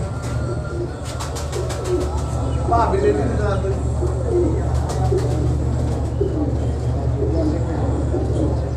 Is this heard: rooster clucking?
no